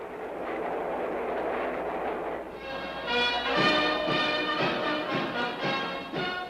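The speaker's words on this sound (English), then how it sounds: "A train with several private cars carries the Emperor and his official party swiftly to Washington," A train with several private cars carrying an emperor and his official party speeds toward Washington, D.C., its steady rolling rumble shifting to a brighter clatter with rhythmic rail beats partway through, fairly loud and continuous with no voices.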